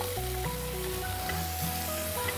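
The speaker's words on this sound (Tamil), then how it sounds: "நல்லா வதக்குங்க" Onions and curry leaves sauté in a pan with a loud, continuous close sizzling hiss, while melodic background music plays over it.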